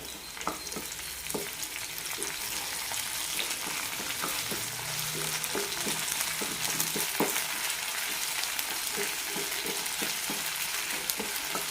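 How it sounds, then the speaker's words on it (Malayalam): Ginger garlic paste sautéing in a hot pan with shallots, a steady broadband sizzle running throughout, broken by frequent short scrapes and clinks of a spoon stirring, close and fairly loud with no talking. "ഇനി ഇതിലേക്ക് ഒരു ടീസ്പൂൺ ഇഞ്ചി വെളുത്തുള്ളി പേസ്റ്റ് ഇടാം നന്നായി വഴറ്റാം"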